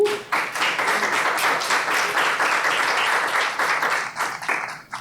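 Audience clapping at a school board meeting, a dense sustained round of applause from many hands filling the room, steady for several seconds before thinning toward the end.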